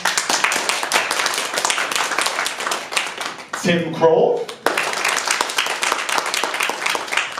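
A small audience claps steadily for candidates in a Hoboken Fifth Ward council debate, the applause fading briefly while someone speaks a name, then picking up again.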